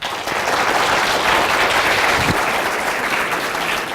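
A lecture audience applauds warmly as a professor is welcomed to an electrical and computer engineering event, with steady, dense clapping that stays full and loud throughout with no talk.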